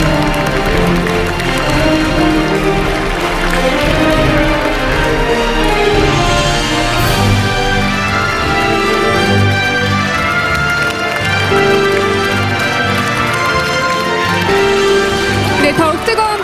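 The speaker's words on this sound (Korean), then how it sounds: "큰 박수 부탁드립니다." An audience applauding to welcome President Moon Jae-in, sustained dense clapping with crowd noise that stays loud throughout and carries some talk.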